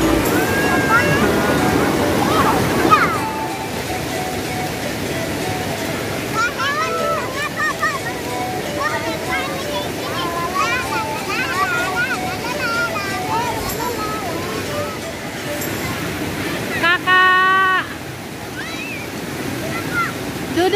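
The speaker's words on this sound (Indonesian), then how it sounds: "Sungainya deras banget." Fast-flowing river rapids on the Cikadongdong River during tubing rush in a loud, steady broadband roar that persists throughout, with people talking and calling out over the water noise.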